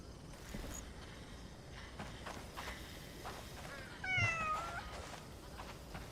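A cat in the video game Crimson Desert meows once, clear and echoing, over a steady low ambient game background, with soft footstep-like clatter beneath it.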